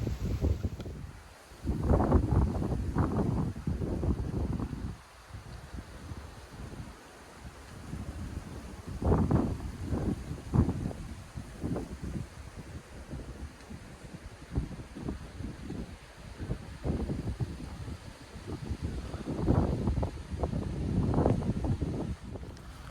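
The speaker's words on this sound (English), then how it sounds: "It's kind of relaxing actually, with the wind just blowing the tent." Gusty wind buffets a tent at a wild camp by a ruined Scottish castle, coming in rising and falling surges of flapping rush with quieter lulls between.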